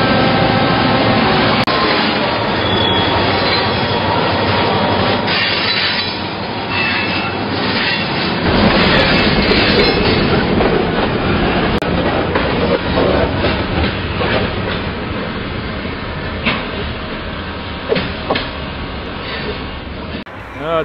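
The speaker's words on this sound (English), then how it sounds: "This empty log train's just popping out of the Ruby Creek Tunnel." Empty log train hauled by a diesel locomotive rolls past near a tunnel, a loud continuous rumble of wagons with rhythmic wheel clatter and occasional squeals, close and sustained.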